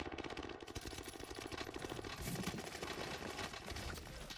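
Rapid gunfire bursts from a Call of Duty Vanguard Resurgence match, dense and continuous with overlapping shots and game clatter across the whole stretch, fairly loud and close.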